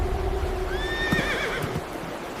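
A horse whinnies once in a short, rising and falling neigh, close and clear over a steady background of ambient noise, with no voices.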